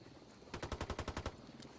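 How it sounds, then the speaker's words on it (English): A tight burst of about ten rapid gunshots fired from a hilltop in Operation Vietnam, evenly spaced and sharp, standing alone against a quiet background. "Shots from the hilltop."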